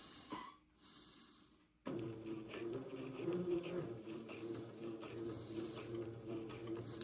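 A sewing machine stitches along the edge of a garment armhole, starting abruptly after a short quiet and running steadily with a rapid mechanical rhythm, close and fairly quiet.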